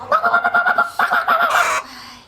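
A toy imitating a chicken makes rapid, rhythmic clucking in short repeated bursts, close and fairly loud, followed by a brief pause and another run of clucks.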